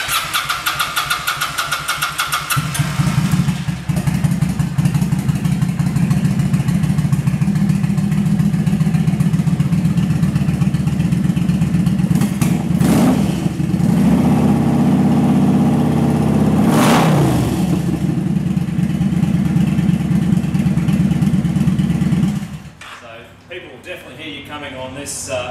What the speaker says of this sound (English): We'll give it a bit of a start up, so you can hear the Vance and Hines pipes on this.